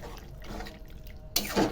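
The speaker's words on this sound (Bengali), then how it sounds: "পরিমাণ মতন একটু জল দিয়ে দেবো, অল্প একটু জল দেবো" Water is poured into a pan of chili paneer with soy sauce. A low, quiet background gives way near the end to a short, bright splash of liquid hitting the pan.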